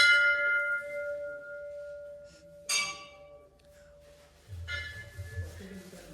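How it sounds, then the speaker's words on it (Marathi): A temple bell struck at a Vithoba temple, a clear metallic ring that sustains and decays, then a second strike, with low rumble and movement noise near the end. "घंटा वाजू एकदा."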